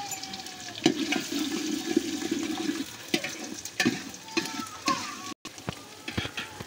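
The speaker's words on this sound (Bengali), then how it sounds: "ডিমটা ভালোভাবে স্ক্রাম্বল করে নিতে হবে।" Beaten eggs scramble in a hot pan with garlic, giving a loud, steady sizzle broken by scraping and tapping as they are stirred.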